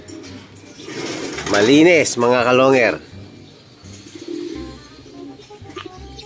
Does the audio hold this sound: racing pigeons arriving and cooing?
yes